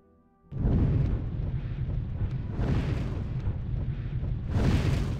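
An ice spell in the game Gothic 1 strikes enemies with a sudden deep crashing burst, followed by a sustained rumbling roar and a second surge near the end, loud and without talk.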